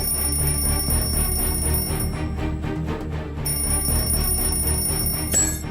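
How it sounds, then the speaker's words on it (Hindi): A small alarm rings continuously with a bright, high metallic tone, steady and fairly close, pausing briefly midway before resuming. "हमारे प्लेटफॉर्म पे सामने एक छोटा अलार्म रखा हुआ है और वो बज रहा है"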